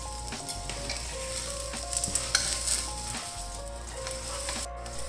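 Aloo paratha fries in ghee on a griddle, with a steady close sizzle and crackle that runs throughout, plus a few soft scraping touches and no voices.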